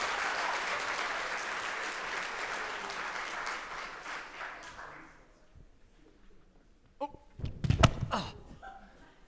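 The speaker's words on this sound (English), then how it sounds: "Now you clap." Audience applause at a theatrical whodunit performance, a dense wash of clapping that fades out, followed by a few sharp knocks and thumps.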